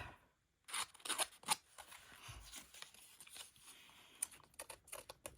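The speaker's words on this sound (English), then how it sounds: "You could rough it up with scissors" Scissors rough up the edge of a sheet of designer paper in short, close, crisp snips and scrapes, faint and quiet with brief pauses between bursts.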